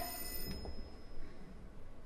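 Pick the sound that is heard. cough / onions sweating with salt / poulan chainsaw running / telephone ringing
telephone ringing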